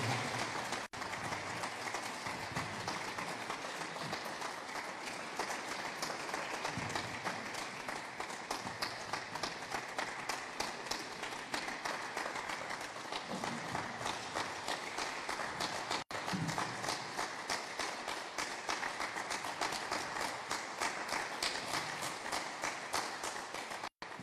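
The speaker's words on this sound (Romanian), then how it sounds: "încă o dată, aplaudați pe acești minunați părinți!" An audience applauds at a commemoration for Ciprian Porumbescu in Suceava, with dense, sustained clapping that carries on steadily for the whole stretch without letting up.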